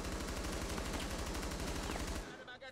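Rapid automatic gunfire in Rainbow Six Siege, fired continuously through a wall in a steady, loud rattling burst that cuts off near the end, with no talking over it.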